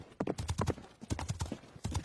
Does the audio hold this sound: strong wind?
no